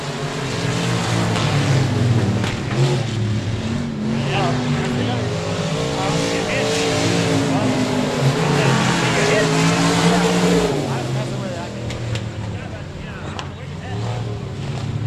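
Race cars roar continuously around the final turn at 67 Speedway of Texarkana on a Friday night, a loud, dense engine drone that swells and fades as the field passes, with an announcer talking over it.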